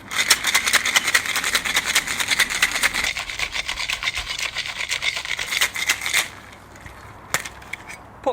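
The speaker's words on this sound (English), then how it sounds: "Pop the top on, nice little tap, and shake." Cocktail shaker packed with ice being shaken hard for a French 75-style drink, rapid rattling strokes for about six seconds, then quieter handling with a couple of taps; no talk.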